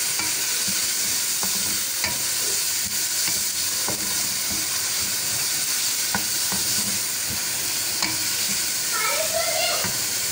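Carrots and other vegetables sizzle steadily in a hot pan for chicken chowmein, with occasional clinks and scrapes of stirring throughout.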